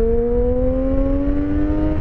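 A Triumph Street Triple 675 three-cylinder motorcycle engine revs up loud and close, its tone climbing steadily as the throttle opens, a smooth rising whine over a deep rumble with no talking.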